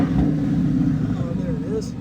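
A 2012 Ford Mustang Boss 302 with a 5.0L engine and 6-speed manual runs close by with a steady, deep engine rumble and only a slight rise in pitch rather than a sharp rev.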